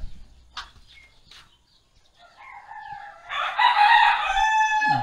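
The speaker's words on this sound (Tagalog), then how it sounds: "Tinitilaok na yung manok" A rooster crows loudly nearby, a long rising and sustained call following a few quieter clucks and soft background noise.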